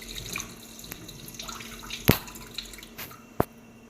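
Tap water runs gently while a pankag fish is rinsed by hand, a soft steady trickle broken by a few sharp splashes and drips close by, with no talking.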